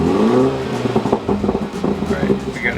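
A BMW 330i F30 on a Bootmod3 stage 1 tune idles as a run of popping, crackling exhaust burbles fires off in close succession, with people talking over it.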